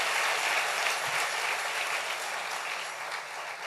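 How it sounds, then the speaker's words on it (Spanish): A church congregation at a Friday service claps together in a dense, sustained round of applause that holds steady and slowly tapers, with no voices rising above it. "Dale un aplauso al Rey bendito"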